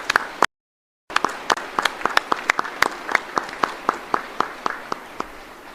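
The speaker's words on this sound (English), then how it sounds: "please give me a round of applause in recognition of Navy Band Northeast" Scattered, fairly sparse claps ring out from an audience at a 2019 Navy Officer Candidate School graduation ceremony, honoring Navy Band Northeast; crisp individual hand claps repeat unevenly for several seconds after a brief gap, with no voices over them.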